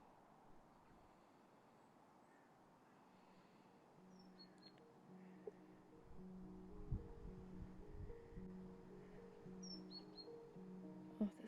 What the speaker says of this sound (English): Oh, the sounds of the birds are so relaxing.